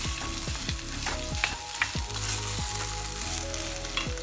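Potato pieces frying with black pepper in a pan crackle and sizzle steadily, while a spoon scrapes and clacks against the pan in repeated stirring strokes close by.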